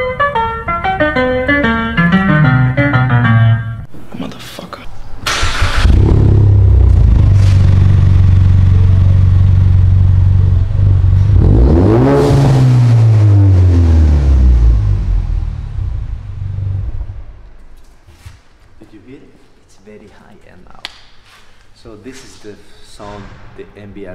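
A Ford Mustang EcoBoost with an MBRP exhaust starts and revs, a loud deep rumble swelling in two strong bursts and then settling to a lower idle, preceded by a moment of music.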